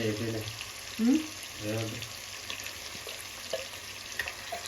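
Fish fries in oil with fenugreek, onions and turmeric, giving a quiet, steady sizzle under short bursts of someone speaking.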